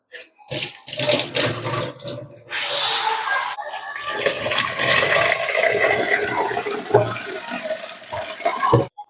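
Homemade butter washed by hand in water, with running and sloshing water close by, continuous with short pauses and a few knocks near the end.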